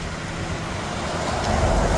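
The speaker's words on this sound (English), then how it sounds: "Unfortunately, a lot of traffic along here," Steady roadway noise from passing cars and buses on a downtown street, a continuous close wash of engine and tire rumble that swells slightly louder toward the end, with no talk.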